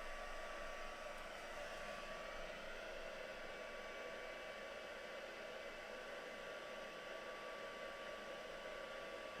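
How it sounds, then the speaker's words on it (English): A heat gun runs without a break for heat embossing at a craft table, giving a steady, even blowing whoosh like a hair dryer. It stays at constant level throughout, with no voices. "So I'm just going to heat emboss him now."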